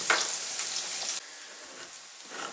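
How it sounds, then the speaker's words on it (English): Onions sautéing in a pan for white chili give a steady, soft broadband sizzle and crackle, slightly louder at first then settling into a quieter hiss, with no talking. "You can hear the onions sauteing in the background there."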